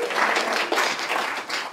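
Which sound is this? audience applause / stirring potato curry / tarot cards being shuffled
audience applause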